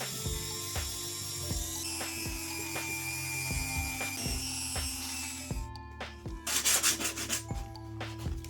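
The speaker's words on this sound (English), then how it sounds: "and then give it some sanding" Steady rhythmic rubbing of 80-grit sandpaper on wood, strokes repeating at an even pace, shifting to a harsher scratchier burst near the end.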